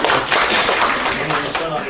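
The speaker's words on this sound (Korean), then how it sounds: "박수로 환영해 주시기 바랍니다" An audience at a Korean panel debate claps to welcome a speaker, giving a dense, steady patter of many hands that is close and continuous.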